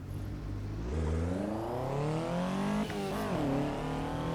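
A stock Toyota AE86 engine in a racing video game revs up, its buzzy tone climbing steadily in pitch, dipping briefly, then surging again, loud and alone.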